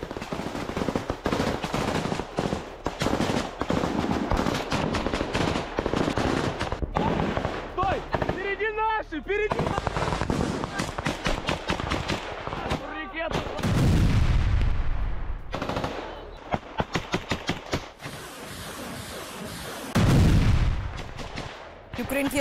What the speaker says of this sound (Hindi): देखिए जबरदस्त फायरिंग का ये वीडियो।